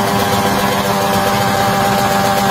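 A racing motorcycle engine, a two-stroke Skill Shooter, idles continuously at close range while warming up, a constant rumbling drone with no speech over it.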